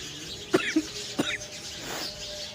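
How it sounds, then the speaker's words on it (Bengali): Two short, sharp coughs close by, about half a second apart, with a quiet room in the background. "কাশি আসছে"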